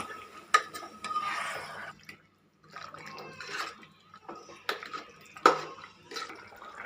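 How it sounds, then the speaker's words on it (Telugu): Green chicken being stirred in a pan, metal spoon scraping and clinking against the pan in irregular strokes, with wet shuffling sounds between them and a brief pause midway. "ఇప్పుడు ఈ చికెన్ని బాగా మిక్స్ చేసుకోవాలి"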